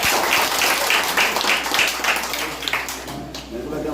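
A family gathering audience claps loudly and steadily for several seconds, a dense, continuous patter of hands with voices mixed in.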